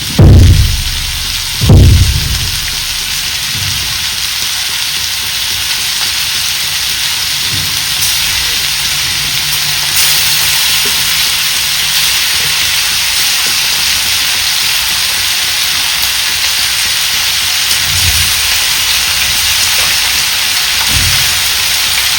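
Food dropped into a hot pan for a home-style Kerala meal bursts into a loud sizzle. The sizzle settles into a long, steady hissing fry with a few faint knocks, and no one speaks.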